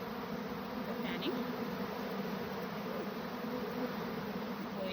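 Honey bees fanning at the entrance of a backyard hive during a July swarm, a steady, dense buzzing drone that holds level and close throughout with no talk over it.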